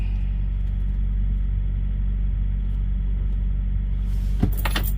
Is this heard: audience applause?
no